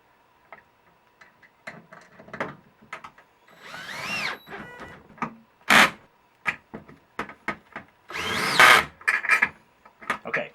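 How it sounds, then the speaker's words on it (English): Six set screws are snugged up on a metal standing seam roof anchor, a series of sharp ticking clicks in uneven bursts with brief rasping squeaks from the tool, close and distinct against a quiet background. "what I'm going to do is snug up these 6 set screws, and I'm going to alternate."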